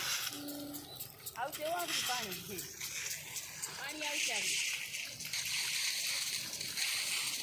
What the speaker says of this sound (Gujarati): જોઈ લે બધા હાલતા થઈ ગયા આપણા ફુવારા